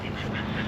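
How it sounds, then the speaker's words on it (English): Ducks quack by a small pond along a footpath in Standish, Wigan, a brief dense cluster of calls heard outdoors at moderate distance. "there are a lot of ducks quacking away behind me."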